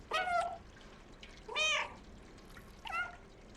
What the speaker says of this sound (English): Can I meow at them, Grumpy?